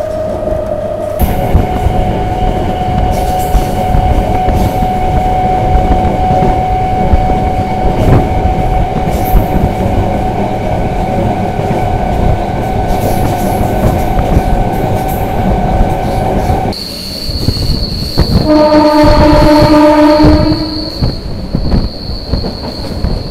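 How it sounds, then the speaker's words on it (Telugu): A Nagarsol to Narsapur express train passes close by with a loud, continuous rumble and rattling wheels, and its horn blares long and steady near the end. No one speaks. "ఇప్పుడు క్రాసింగ్ చేసిన ట్రైన్ వచ్చేసి నాగర్సోల్ నుండి నర్సాపూర్ చేరుకునే ఎక్స్ప్రెస్"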